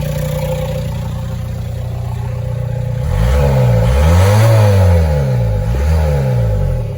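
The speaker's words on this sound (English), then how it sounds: "The old dirty diesel." A PD130 diesel engine swapped into a Talbot camper idles with a steady clattering hum, then is revved up and down twice, its pitch swooping high and falling back, loud and close.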